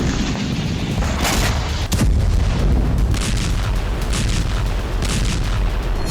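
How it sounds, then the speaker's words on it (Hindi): Heavy artillery shelling and multiple-launch rocket fire in a war zone, a dense continuous roar of booms and bursts with a sharp loud blast near the two-second mark, no voices. "तो कहीं आर्टिलरी शेल और MLRS से बारूदी भूचाल।"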